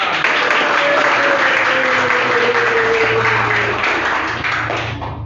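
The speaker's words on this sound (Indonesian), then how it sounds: "Tepuk tangan dulu dong." A class applauds in a classroom during a teaching performance test. Steady, dense clapping from many hands fills the room, then fades out near the end.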